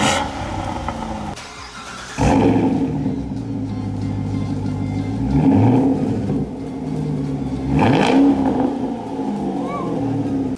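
Exhaust of a 2014 Corvette Stingray 2LT with a 6.2 V8 and a muffler delete: a loud, deep burbling idle broken by several sharp revs that swell and fall back.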